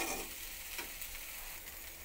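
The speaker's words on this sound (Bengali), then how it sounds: "মাঝে মাঝে একবার করে নাড়িয়ে নেব, নাহলে একদম তলায় পোড়া লেগে যাবে।" Potato and eggplant slices fry in a pan with a steady, quiet sizzle, broken by light scraping as they are stirred now and then.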